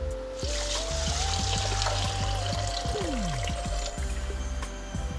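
Water poured steadily into a pot of washed parboiled rice for Nigerian fried rice, a continuous close splashing trickle lasting several seconds with a low background hum.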